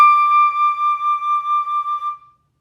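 A single sustained high D on a wind instrument, pure and bright, held steadily for about two seconds before cutting off, with no other sounds.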